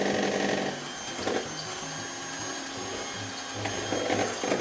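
An electric mixer whirs steadily in a big bowl of egg whites and yolks for a coconut cake batter, a continuous mechanical drone with slight swells as the speed shifts, close and alone.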